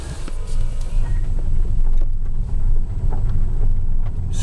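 Tesla Model S P85 electric car driving on Orkney, a steady low road and tyre rumble with wind buffeting heard from inside or near the car, continuous and fairly loud.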